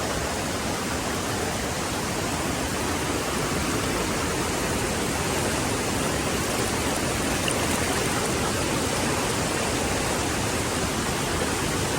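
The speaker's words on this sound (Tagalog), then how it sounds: "Kahit na mababaw lang siya, malakas yung agos, no?" Strong current of water rushing at Mother Falls waterfall, a loud, dense, unbroken roar that fills the whole stretch at close range with no other sounds standing out.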